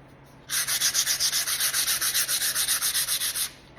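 Sandpaper rubbed back and forth over a painted wooden box, about twenty quick, even strokes in a steady rhythm, close and distinct against near silence.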